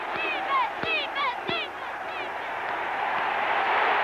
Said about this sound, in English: He can just listen to that crowd coming at him